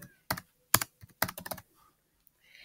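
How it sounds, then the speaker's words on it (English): Someone types an email address on a computer keyboard, producing a short burst of sharp, close, irregular key clicks with quiet gaps between them and no talking. "here you're going to type in your email address"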